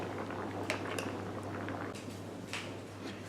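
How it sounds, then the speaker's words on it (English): Cooked manicotti pasta tubes lifted one by one from a pot with a fork and set into a small bowl, giving soft wet squelches and a few light clinks of metal on dish over a steady low hum. "I just sort of lift each one out with a fork. Put them in a little bowl like this"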